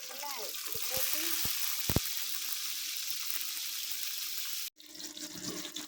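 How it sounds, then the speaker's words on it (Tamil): Turkey berries (sundakkai) frying in hot oil in a village-style South Indian kitchen, a steady broadband sizzle with a few knocks near the start, a short dropout near the end, then the frying resumes more faintly. "ஆயில் காஞ்சதும் நம்ம இந்த சுண்டைக்காய் போட்டு"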